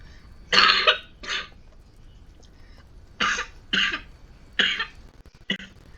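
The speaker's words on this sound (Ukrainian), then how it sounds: "вибачте, будь ласка, кашель захворів" A person coughs hard in three paired bursts, each double cough loud and close, separated by short quiet gaps.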